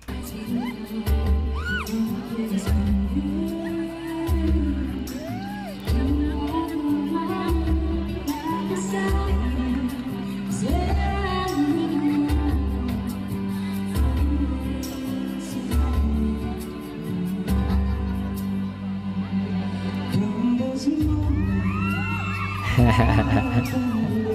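Fans at a live concert scream and whoop throughout, their shrill cries rising over loud music with a heavy, steady beat, the voices bunching into a bigger burst near the end.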